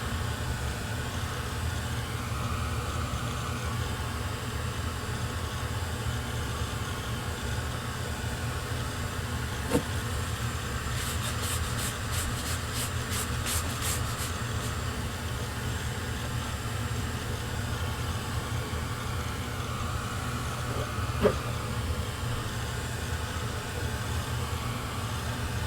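Heat gun blowing over an art journal page sprayed with color over gesso, a steady even roar of hot air that holds unchanged throughout with no talking.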